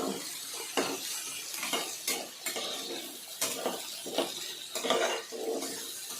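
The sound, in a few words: chicken frying and being stirred in a pan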